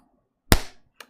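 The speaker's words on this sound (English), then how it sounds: "or if I make a loud sound, like by clapping" A single sharp, loud handclap rings out alone in a quiet room, followed a half second later by a fainter, shorter tap.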